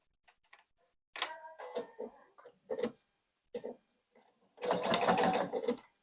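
A sewing machine stitches 1/4 inch seams around a cross-body phone tote, with a few short runs early on and one longer, denser burst near the end, separated by quiet handling noises.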